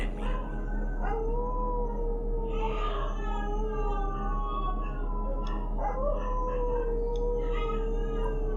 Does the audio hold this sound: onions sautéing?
no